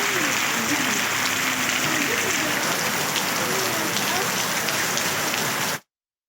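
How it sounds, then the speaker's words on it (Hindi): Steady rain falls in Ziarat and Sanjawi, a dense, even hiss of drops on surfaces that continues unbroken before cutting off abruptly, with faint voices underneath. "ज़ियारत और तहसील संजावी में सुबह से बादल बरस रहे हैं।"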